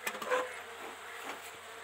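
Wild honey bees buzz around a swarm trap outdoors, a steady, faint hum with a slightly louder swell near the start and no voices.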